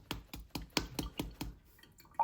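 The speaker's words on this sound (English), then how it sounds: "The water's not quite clear, so I'll keep washing it until it runs clear" A Dyson Ball Animal vacuum filter is washed under water, giving a quiet series of regular soft drips and splashes, about eight evenly spaced, ending with a small clink.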